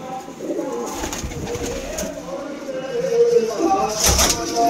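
Malwai pigeons coo in soft, repeated throaty calls close by, with a brief rattle partway through.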